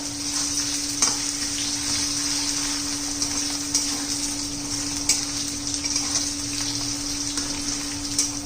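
Potato sautéing in oil in a pan, an even crackling sizzle that holds for the whole stretch, with light scraping taps from stirring and a low constant hum.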